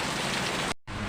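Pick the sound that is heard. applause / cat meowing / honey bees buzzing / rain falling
rain falling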